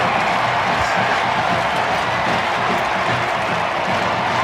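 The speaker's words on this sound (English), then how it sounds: "Listen to the crowd." Dense, continuous roar of a stadium crowd cheering after Memphis wins a college football game over South Florida, loud and sustained, with no individual voices standing out.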